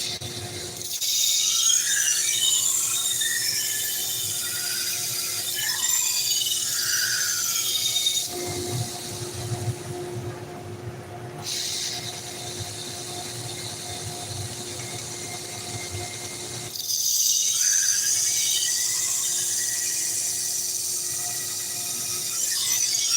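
A knife being sharpened on a sharpener at a knife sharpening service in League City, Texas, a steady grinding, rubbing whir in two long passes separated by a quieter stretch, close and moderately loud with no talk.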